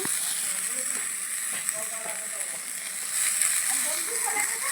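Greens and green chili sizzle as they fry in a pan, a bright, continuous hiss with some soft stirring scrapes, while a voice talks over it.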